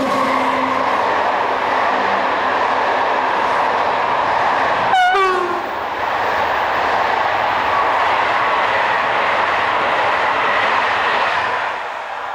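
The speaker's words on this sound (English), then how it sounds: "15043 has not long left the town of Bernay as it heads into the setting sun with the 1907 from Paris to Caen." An SNCF BB15000 electric locomotive hauls a Paris to Caen passenger train near Bernay, a loud steady rumble and rush passing close by, with a short horn-like squeal partway through.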